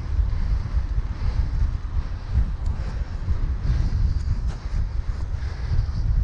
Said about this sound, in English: So the wind's sort of coming in